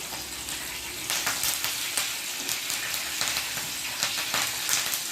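Fenugreek seeds, mustard seeds and curry leaves sizzle and crackle in hot oil in a pan with garlic, a steady close frying hiss with brief spitting pops throughout, no voices.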